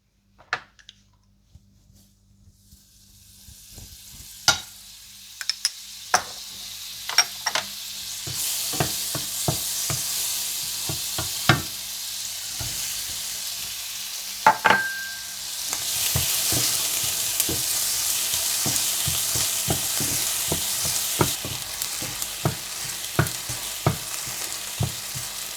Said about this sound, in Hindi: इसके बाद मक्खन गरम करें और इसमें प्याज डालकर हल्का सा भूनें।